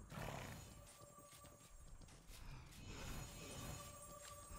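Horse hooves clip-clop steadily with an occasional whinny, set against a busy game-like ambience with faint tonal hums, in the video game Mortal Online 2.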